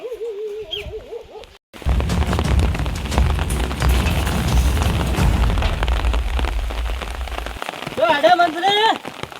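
Rain pours down steadily in a village setting, a dense continuous hiss with scattered drops and pops lasting several seconds, framed by brief voices speaking before and after.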